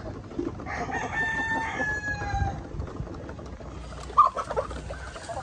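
Blue Orpington chickens on a farm, with a rooster crowing in a long drawn-out call and hens clucking nearby over a low background murmur.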